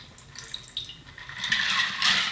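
A chilled Aperol cocktail pours from an insulated shaker into a coupe glass. Light splashing and trickling build into a fuller, brighter gush of liquid toward the end, heard close up with no talking.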